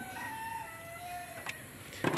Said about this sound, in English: We kill the chicken, sorry, the rooster, because we're fed up with roosters at this house.